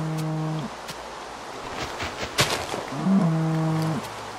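A Minecraft cow gives two low drawn-out moos, one at the start and one near the end, with faint game ambience and scattered clicks between them.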